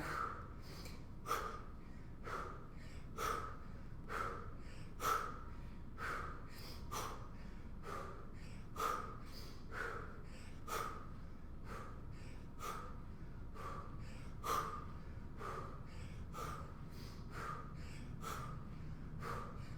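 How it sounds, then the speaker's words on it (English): Heavy rhythmic breathing during a strength endurance workout, sharp gasping breaths and snorting exhales repeating steadily about every second, close and fairly quiet. "Remember to breathe throughout."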